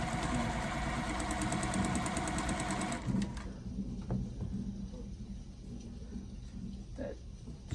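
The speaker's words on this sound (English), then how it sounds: "I'm sitting here sewing tomorrow's block." Sewing machine stitching a quilt block, running steadily and loud for about three seconds, then stopping, leaving faint room noise and small handling clicks.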